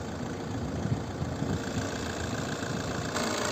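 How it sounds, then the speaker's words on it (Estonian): An Opel Insignia car engine runs at a steady idle, a continuous, even rumble with a faint knocking texture that stays constant throughout, with no talking. "Kuulame mootori häält"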